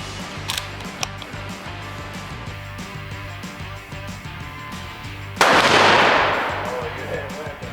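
Rifle fire on a brand-new shooting range while youth hunters sight in at Legends Ranch: a couple of faint sharp pops early, then one loud, close shot with a long ringing decay over a low steady hum.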